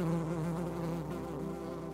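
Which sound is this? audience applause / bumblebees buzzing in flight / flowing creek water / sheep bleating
bumblebees buzzing in flight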